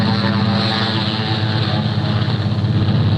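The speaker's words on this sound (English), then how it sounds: "When they heard our engines roar, the troops ran for cover." Propeller engines of post-World War I military aircraft roar in a steady, loud, unbroken drone from an archival film, with no other sound breaking through.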